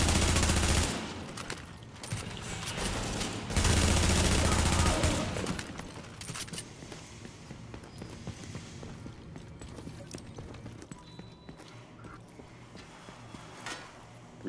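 Heavy gunfire aimed at the player in the video game The Division, with dense loud volleys at the start that thin into scattered distant shots and ambient battle noise, and a faint voice underneath.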